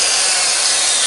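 A Red 16 RE mixer drill runs at normal power, giving a loud, steady, high-pitched grinding whir that stays constant throughout the short burst.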